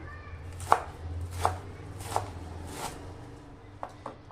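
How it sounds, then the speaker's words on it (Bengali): A knife chops washed bathua greens on a board in four evenly spaced, fairly loud thuds, followed by two lighter taps, close and with no talk. "বেতর শাকগুলো সব কেটে নেব"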